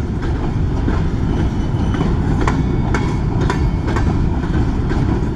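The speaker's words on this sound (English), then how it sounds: "I'm glad I came out here to catch this train." BNSF freight train of over a hundred cars rolling past close by, a loud continuous rumble and roar with rhythmic clickety-clack of wheels over rail joints and occasional metallic squeals.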